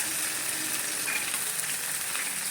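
Small shallots fry in a pan for a fish curry, giving off a continuous, dense hiss and sizzle that stays close and even, with no talking.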